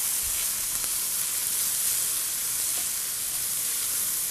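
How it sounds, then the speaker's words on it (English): Diced onion and risotto rice sauté in olive oil and butter, making a continuous, even sizzle with a bright hiss, close and steady throughout with faint stirring taps. "I will start in my pan with olive oil and butter, and I will start sauteing a diced onion"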